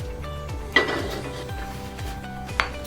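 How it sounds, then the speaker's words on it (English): Spices tipped into a pestle and mortar during cast-iron cooking of lamb keema curry, two sharp clinks of hard stone or ceramic over faint rattling and background hum. "So we're going to put these into a pestle and mortar."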